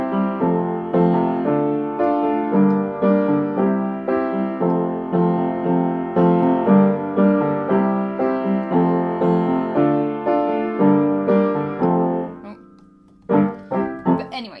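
Piano plays the repeating chord pattern of a song, steady rhythmic chords ringing clearly for about twelve seconds before trailing into a few scattered notes.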